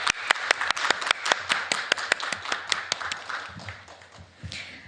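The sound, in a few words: audience applause at a conference panel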